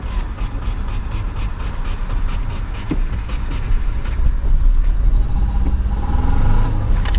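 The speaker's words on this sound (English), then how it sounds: "So tayari gari na nguruma." A Subaru car with a manual five-speed gearbox revs its engine on a roadside lot, a steady loud rumble that rises slightly toward the end.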